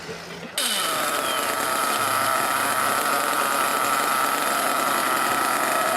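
A brand-new stock 4.6 engine in an RC model car bursts into a loud, high-pitched buzzing run just after a short quiet start, then holds steady and close until the end.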